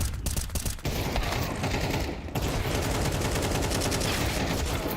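Gunfire in a Counter-Strike 2 firefight: rapid, dense bursts of automatic weapon fire, close and loud, with a brief gap before the shooting resumes steadily.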